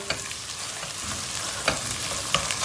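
Tomato paste fries with onions in a pan for a chicken liver dish, giving a steady close sizzle broken by a few sharp scrapes of the spoon.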